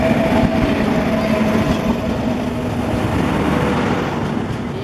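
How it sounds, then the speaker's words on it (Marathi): A late-running Ganpati special passenger train from Kudal to Bandra Terminus rumbles steadily through Sangameshwar station, its wheels and engine forming a loud, continuous roar that holds for the whole stretch with no talk over it. "ही पण गणपती स्पेशल गाडी आहे."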